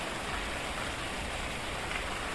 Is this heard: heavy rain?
yes